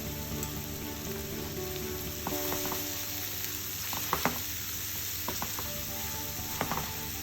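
Chopped onion with salt frying in a pan, a quiet steady sizzle with a few scattered clicks and scrapes of stirring.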